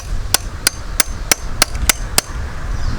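Seven sharp metal hammer strikes land at a steady, fairly quick rhythm while a car flywheel is being installed on a motor-swapped 370Z, each blow crisp and close against a low background rumble.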